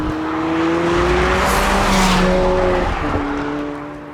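A McLaren 720S with the 710 hp Performance Package accelerates hard. Its loud, close engine note holds a strong, steady tone that shifts partway through, as though on a gear change.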